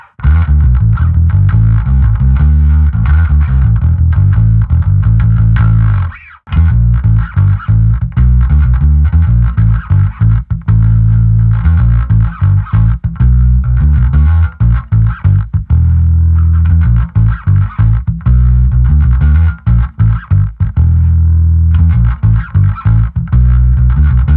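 Distorted electric guitar riffing loudly through an overdrive preset with boosted upper midrange, a driven, forward tone, steady rhythmic chords with a brief pause early on.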